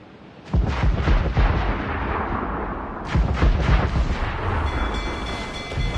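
Naval cannon fire from a ship battle in Assassin's Creed 4: Black Flag, with two heavy booming bursts, one at the start and one midway, each trailing into a long, rumbling wash of blasts and debris.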